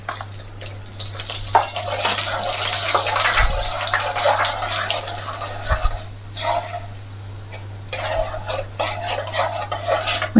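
Urad dal sizzles and is stirred in a pan on a low gas flame, a steady close frying crackle with scraping spoon strokes and a low hum underneath, briefly dipping before resuming.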